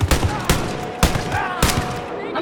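Gunfire from the shooter game Wolfenstein: Youngblood rings out as four loud, sharp shots spaced about half a second apart, each with a ringing tail, with no talking over them.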